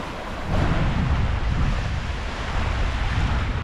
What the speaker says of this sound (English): Let's just listen to the water together.